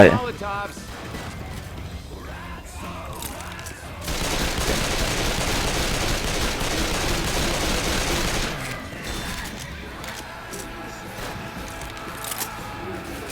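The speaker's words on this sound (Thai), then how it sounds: "ยิงเข้าไปครับ" Rapid bursts of gunfire in the video game Left 4 Dead 2, with a dense sustained volley in the middle and sparser shots and mechanical clicks around it, mixed with game sounds.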